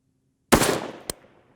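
A CMMG Endeavor 6.5 Creedmoor rifle fires a single sharp shot, loud and close, with a rolling tail and a faint distant crack about half a second later on a long-range shoot at 1000 yards.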